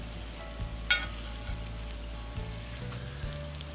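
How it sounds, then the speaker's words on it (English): Steady crackling sizzle of butter in a hot frying pan outdoors on a windy day, continuous and fairly close, with a few soft clicks and bumps over it. "Sizzle a little bit, and we'll flip this baby right on top of that melting butter."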